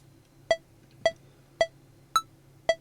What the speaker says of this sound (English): you hit A on that higher pitched beep